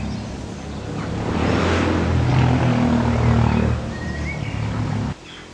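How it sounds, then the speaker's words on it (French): A motorcycle passes by outside near a garden, a broad engine roar that swells over a few seconds, holds, then cuts off sharply near the end. "la voiture qui passe. Ah non, c'est la moto."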